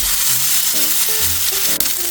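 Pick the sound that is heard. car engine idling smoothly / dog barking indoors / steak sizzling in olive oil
steak sizzling in olive oil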